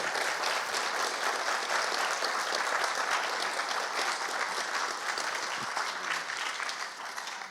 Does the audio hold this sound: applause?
yes